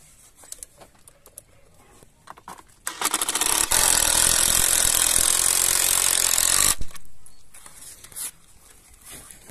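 A power drill drives a 7.5mm concrete screw into a 6mm hole in concrete, one loud, harsh, grinding burst of about three seconds close by, then quiet again.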